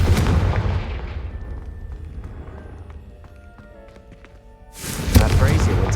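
A Confringo fire spell blast in the game Hogwarts Legacy: a loud, close burst of roaring crackle that fades over a second or two, then a quiet spell of faint ringing tones before a second loud roaring blast.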